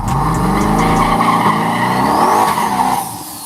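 Trent's nitrous-fed Camaro drag car makes a full pass at the Yello Belly drag strip, its loud, close engine roar rising steadily in pitch before dropping away in the final half second.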